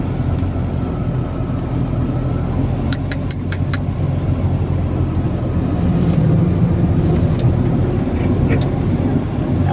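A truck rolls through flood water during a typhoon, a loud steady engine drone and wash of churning water close by, with a few brief clicks and a voice faintly beneath.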